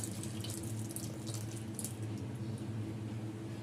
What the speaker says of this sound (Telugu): పోసేస్తున్న పాలన్నీ.